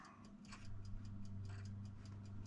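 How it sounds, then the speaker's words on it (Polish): Steady, quick ticking of a mechanical clock, close and fairly quiet, with a low hum running underneath. "Ten se fajnie tyka."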